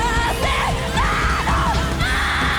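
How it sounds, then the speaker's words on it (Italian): A singer screams during a live concert performance, loud sustained wavering yells rising and falling over dense band music, heard up close. "ha fatto un urlo incredibile"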